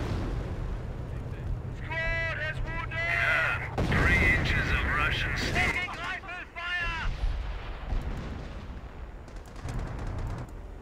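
Mortar rounds in Company of Heroes land as heavy booms amid continuous battlefield rumble, with warbling unit voices and bleat-like calls over the top for several seconds.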